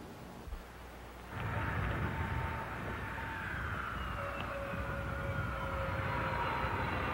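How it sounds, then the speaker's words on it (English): A jet airplane making repeated landings in NASA runway safety tests, with a rising, whining engine roar that swells after a quieter start and holds steady with a thin high tone, heard from a distance. "This plane is making numerous landings in the interest of safety."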